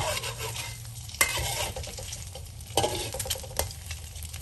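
Eggs frying in a pan with a steady sizzle, while a utensil stirs and scrapes against the pan in several sharp knocks, close by.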